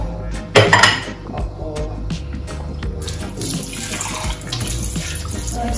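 Dishes and utensils are washed under a running kitchen tap, with a loud clatter of pots and cutlery near the start, then water streaming steadily while items clink softly beneath it.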